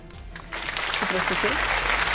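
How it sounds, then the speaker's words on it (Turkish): Studio crew on a cooking show break into a burst of applause that swells quickly and holds loud, with a voice speaking over the clapping. "Söylemeden alkış geldi"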